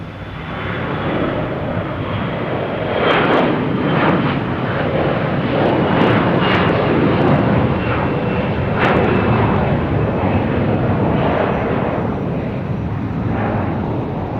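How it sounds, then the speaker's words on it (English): Delta Airbus A321 jet taking off from Boston Logan bound for Atlanta, a loud sustained engine roar with crackling, rumbling texture that holds steady for the whole stretch, heard alone without talk. "We have a Delta A321 heading to Atlanta, flight 399"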